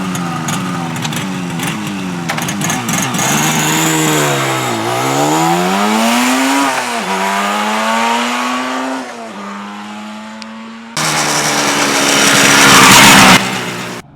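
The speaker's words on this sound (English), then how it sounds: "marvel at the sound of a two-stroke start-up" A classic Suzuki GT250X7 two-stroke motorcycle engine fires up and revs, its raspy buzzing pitch rising and falling through several throttle blips before settling into a steady idle, then a louder, harsher burst near the end; close and continuous with no talking.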